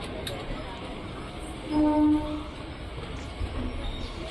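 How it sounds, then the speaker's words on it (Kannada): A MEMU passenger train rumbles steadily as it pulls away from Bengaluru's Krantiveera Sangolli Rayanna station, with a brief horn-like tone partway through and a voice speaking over it. "SBC ನಮ್ಮ ಕ್ರಾಂತಿವೀರ ಸಂಗೊಳ್ಳಿ ರಾಯಣ್ಣ ರೈಲ್ವೆ ನಿಲ್ದಾಣದಿಂದ ನಮ್ಮ ಟ್ರೈನ್ ಹೊರಟಿದೆ"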